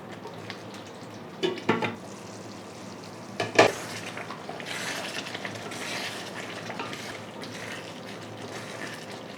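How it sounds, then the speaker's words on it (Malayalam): Eggplant curry with coriander leaves and a little jaggery is stirred in a pan, a few sharp spoon scrapes and knocks standing out over a steady low sizzle. "നല്ലതായിട്ടൊന്ന് ഇളക്കി കൊടുക്കാം."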